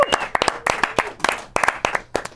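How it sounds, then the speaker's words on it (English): Scattered live-stream audience clapping, a modest group of individual hand claps at an uneven rhythm, each crisp and distinct, fading in and out across a couple of seconds. "Let's give them a big clap."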